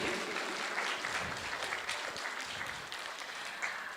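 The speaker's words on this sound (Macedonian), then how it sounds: "Еден аплауз за сите нив." Dense, steady applause from a concert audience at an annual folk ensemble performance, sustained and fairly even throughout.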